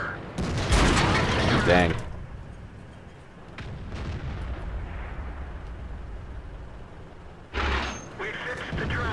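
Tank cannon fire in the World of Tanks video game: heavy booming blasts open the clip and recur near the end, with a low rumbling battle background in between and a voice speaking briefly.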